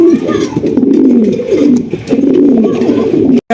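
Several pigeons coo close by in low, rolling, overlapping calls, repeating steadily, ending with a brief thump.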